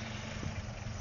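A Land Rover engine idles with a low, even rumble, steady and unvarying, fairly quiet and close with no voices over it.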